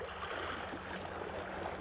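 Sea water at Tongyeong on the Korean coast, a steady soft wash of waves and lapping water, continuous and even at a moderate distance with no voices.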